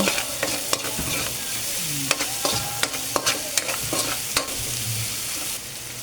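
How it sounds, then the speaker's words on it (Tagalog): Onions sauté in hot oil for ginisang upo, a steady sizzle with a spoon clacking sharply against the pan at irregular intervals as they are stirred, close and clear with no talking. "Sa mantika, lagay natin ng sibuyas. Halu-haluin."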